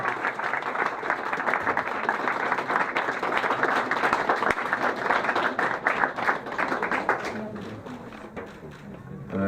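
Applause at a charity running event's prize presentation: dense, lively clapping from a crowd, loud and steady for several seconds before thinning and fading near the end, with faint voices mixed in.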